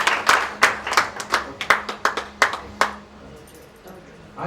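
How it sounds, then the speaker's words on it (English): A single person claps about a dozen times in a quick, irregular rhythm at an awards event, loud and close, then the claps stop and faint room noise remains. "A big hand of applause for Audrey."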